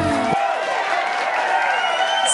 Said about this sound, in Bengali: হাততালি আর সিটি।